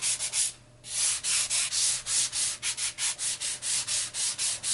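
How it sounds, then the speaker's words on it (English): Rhythmic back-and-forth strokes of a 220 grit sanding block on foam, close and fairly loud, with a short pause before the steady rasping resumes. "This is just, I think, 220 grit sanding block."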